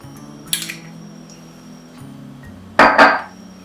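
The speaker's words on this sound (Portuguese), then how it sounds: "mistura o azeite de oliva, o acetato balsâmico e a mostarda, um bowl menor" Olive oil, balsamic vinegar and mustard being stirred together in a small bowl: a quiet room tone broken by a short cluster of clinks, then a louder scrape and clatter near the end.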